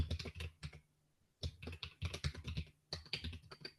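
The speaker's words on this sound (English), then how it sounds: "And Alexei, your keyboard is remarkably loud." A computer keyboard clatters loudly and close during an online call, keys struck in quick bursts separated by short pauses, with no talking over it.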